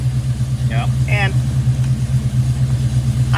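A warmed-up 1972 AMC Javelin engine idling with a steady, loud low rumble, while a person talks briefly over it near the start.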